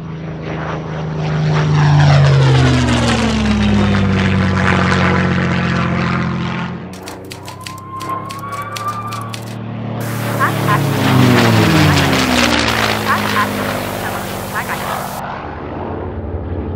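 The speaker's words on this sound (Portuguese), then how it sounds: "ser a primeira mulher a dar a volta ao mundo em um avião." A propeller airplane engine drones steadily in flight, rising and falling in pitch as if passing overhead, loud and close, with a voice speaking partway through. The aircraft is tied to Amelia Earhart's 1937 round-the-world flight.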